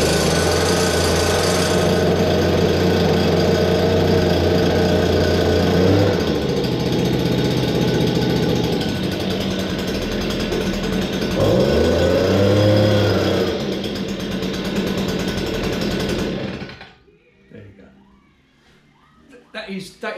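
A Stihl SH86 vacuum blower's small two-stroke engine runs loudly and steadily near at hand, shifting pitch a few times, then cuts out near the end, leaving quiet handling noises.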